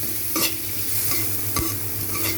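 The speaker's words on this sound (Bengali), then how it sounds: "দেওয়ার পরে হচ্ছে নাড়াচাড়া করতে হবে, একটু ভাজা ভাজা" Onion with cardamom, cinnamon and cloves sizzles in a pan while a spoon stirs it, a close steady frying hiss broken by a few sharp scraping strokes.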